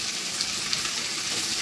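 Chopped tomato hits a pan of frying onion, ginger and garlic, producing a dense, even sizzling hiss that holds steady through the short moment.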